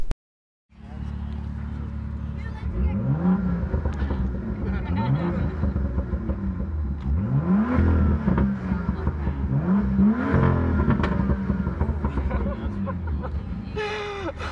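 Car engines rev at a car show, several rising and falling throttle blips repeating over a steady engine rumble, with crowd chatter and voices mixed in throughout.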